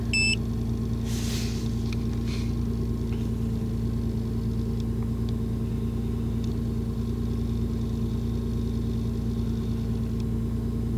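Car engine idling steadily during a diagnostic scan with an Autel AL419 tool, a constant low hum heard from inside the vehicle, with a few faint electronic beeps near the start.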